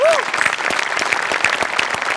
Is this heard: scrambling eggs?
no